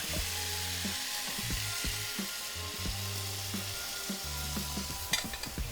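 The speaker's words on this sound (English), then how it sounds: "I'm going to add my coconut milk in there." Coconut milk goes into a pan of seared chicken curry, loud steady sizzling and bubbling frying throughout with a low humming tone underneath and a brief clatter near the end.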